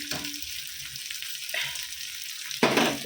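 Food frying in a pan while a home meal is cooked, a steady sizzle running throughout, with a louder burst of hiss near the end as something is stirred or added.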